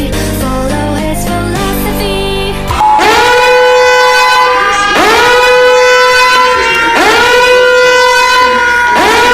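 A civil defense siren announcing the start of the purge wails loud and alone, rising and falling in repeated long sweeping cycles after a brief burst of other tones.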